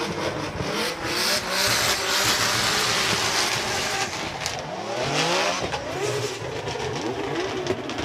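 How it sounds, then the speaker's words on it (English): Drift cars, a Nissan R35 GT-R with a VR engine and a Lexus IS with a 2J engine, rev hard and continuously at a Formula Drift Japan event. Tire squeal and skidding mix in, loud and close. "all that revving's going on"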